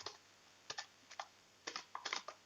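Typing on a computer keyboard, a quiet, close run of separate key clicks arriving in small irregular bursts with short pauses between them, and no voice over it.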